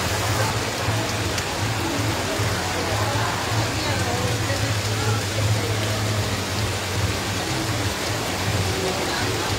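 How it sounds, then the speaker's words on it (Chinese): Heavy downpour pours steadily throughout a religious procession for Guan Gong, a loud continuous wash of rain with a low rumbling hum beneath, while people talk faintly in the background. "好可怕哦，这个雨"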